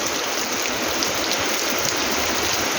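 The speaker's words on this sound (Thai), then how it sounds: "ฝนตก" Out-of-season summer storm rain in Thailand falls steadily and densely, a continuous close hiss of drops with no voices.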